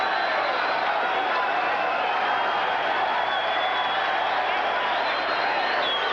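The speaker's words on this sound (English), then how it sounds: "Crowd likes it. Very appreciative crowd here in Las Vegas." A large boxing arena crowd in Las Vegas roars and applauds continuously, loud and dense, at the end of the 13th round of Larry Holmes vs Trevor Berbick, while a commentator's voice runs underneath.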